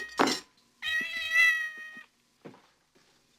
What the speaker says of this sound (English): Stop mistreating your cat.